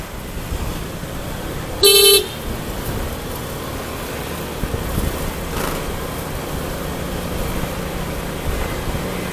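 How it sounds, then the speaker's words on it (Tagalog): A single short burst of rapid car horn honking cuts through steady road and rain noise, then the background hiss carries on alone. "Ganda ng ating busina, rapid horn, di ba mga idol?"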